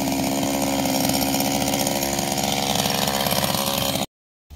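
A chainsaw runs loud and steady at full throttle, cutting a tree continuously for about four seconds before abruptly stopping.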